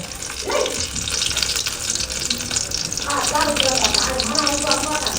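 Chili fritters crackle and sizzle steadily in hot oil, the frying growing denser after a few seconds, while people talk nearby.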